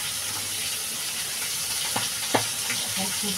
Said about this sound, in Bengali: মাছ আর কাঁটাগুলো একসঙ্গে ভেজে নিচ্ছি